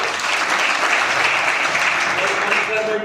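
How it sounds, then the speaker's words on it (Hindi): Steady audience applause at a gathering in Jauharabad welcoming the district judge, a dense, even wash of clapping that holds loud and close throughout. "एक बार ताली बजा करके इसी के साथ हमारे जिला जज इनका भी स्वागत जौहराबाद में हो जाए।"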